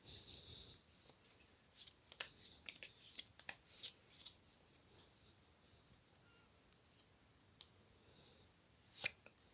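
Tarot cards are shuffled and handled in soft, irregular bursts of riffling and flicking, close and quiet, with brief pauses between clusters.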